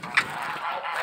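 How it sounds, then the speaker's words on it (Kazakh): Geese honking nearby in a yard, one loud nasal honk followed by a softer continuing call against a quiet outdoor background. "Мен қаздарыма жемдерін беріп тастадым"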